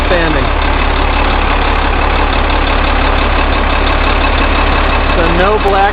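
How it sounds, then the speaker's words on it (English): Diesel engine idling after warming up, heard as a loud, steady low rumble close by that runs throughout, with people talking over it. "once it warms up, it's a pretty clean running diesel"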